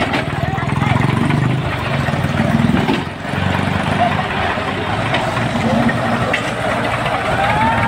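Tractor engines roar steadily and loudly through a tug-of-war pulling test between two tractors, a continuous heavy drone with people talking over it.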